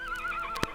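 A horse whinnies in an audio drama scene while someone is helped into the saddle, a loud, close, wavering neigh followed by a sharp thud or hoof knock near the end.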